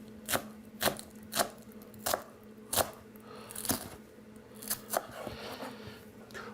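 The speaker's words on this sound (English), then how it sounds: "we're going to chop these up" Knife chopping shallots finely on a cutting board, about ten crisp, evenly spaced chops close up, with faint kitchen background and no talk.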